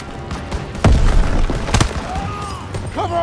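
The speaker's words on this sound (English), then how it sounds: "Throw the grenade!" Grenade blasts in the World War II shooter Call of Duty WWII, with two heavy booms about a second apart amid scattered gunfire and battle noise.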